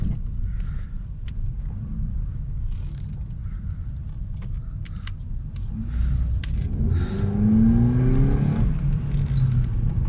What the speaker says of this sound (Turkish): Hızlanması, vites geçişleri falan gayet güzel arabanın.